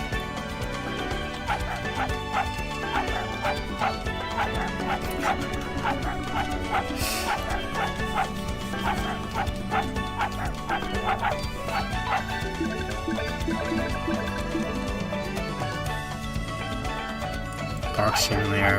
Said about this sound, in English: Barks in there, of course.